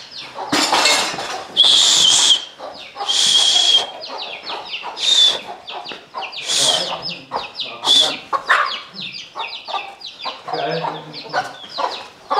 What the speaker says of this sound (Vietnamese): Ui sao có gà trong nhà